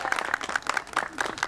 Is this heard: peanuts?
no